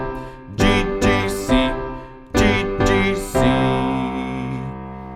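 Guitar switching quickly back and forth between the fifth chord and the root chord of the scale, loud strummed chords in short bursts, the last one left ringing out, with no one talking.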